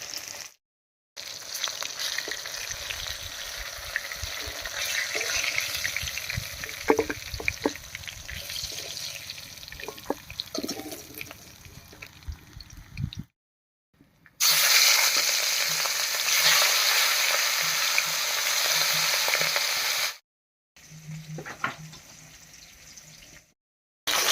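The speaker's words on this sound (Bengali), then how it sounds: "মাছগুলো ভাজা হয়ে গেছে নামিয়ে নিচ্ছি" Rohu fish pieces frying in hot oil at home, a steady close sizzle with clinks as they are lifted out, broken by short gaps and a stretch of running water.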